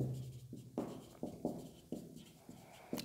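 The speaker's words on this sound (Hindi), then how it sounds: "इसके बाद हम यहाँ पर लिख देते हैं" A pen or chalk writes on a board while working a maths paper solution, making a string of short scratchy strokes in an uneven rhythm, about seven bursts close by with quiet gaps between.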